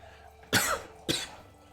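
Two sharp, close coughs about half a second apart, loud against a quiet background.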